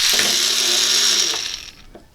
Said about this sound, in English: then to power up a small DC motor